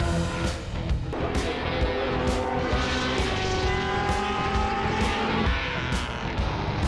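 Classic race cars at the Le Mans Classic roar past at full speed, with dense, loud engine noise and overlapping rising and falling engine notes as several cars pass in close succession, continuous throughout.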